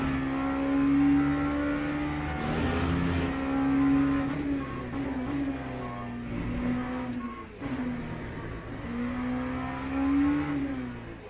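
A sustained LMP2 race car engine in a racing video game, a loud, steady in-car drone that rises and falls in pitch through gear changes and throttle, heard alone throughout.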